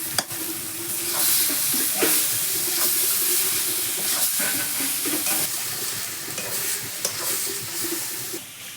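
Boiled banana flower cooking with shrimp in a pan, a steady sizzle and hiss of frying with intermittent stirring scrapes, close and continuous throughout.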